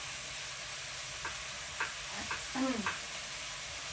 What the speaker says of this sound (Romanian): mai stau un pic să se călească legumele acolo și pun și puiul peste